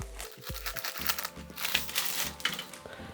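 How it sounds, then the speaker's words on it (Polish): Plastic wrapping on a LEGO magazine crinkles and rustles close by as scissors snip through it in a few quick cuts. "Ciach, ciach, ciach nożyczkami."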